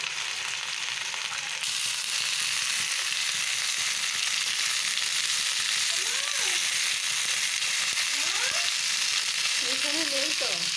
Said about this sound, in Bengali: মশলাগুলো দিয়েছি, সবজিগুলোকে ভালো করে কষে নিতে হবে প্রথমে।